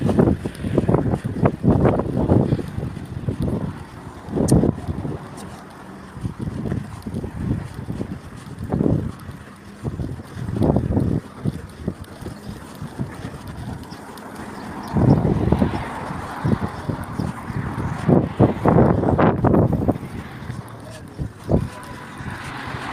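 Gusty outdoor wind buffets the microphone of someone walking, producing repeated heavy low rumbles and bursts that rise and fall while a voice talks intermittently.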